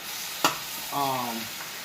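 Beef strips sizzle and crackle as they stir-fry on high heat in a hot pan for pepper steak, with a sharp clank of a utensil and a short hum partway through.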